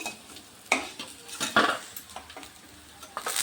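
Soybean chunks being fried in oil and lifted out, with soft sizzling and a few sharp scrapes and clinks of a utensil against the pan, close and fairly quiet with no talking.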